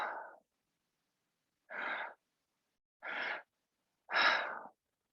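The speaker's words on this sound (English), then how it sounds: "So the breathing is all through the mouth" Three audible mouth breaths in a breathwork exercise: two short inhales into belly then chest followed by a longer, stronger exhale, close and isolated against silence after a trailing breath.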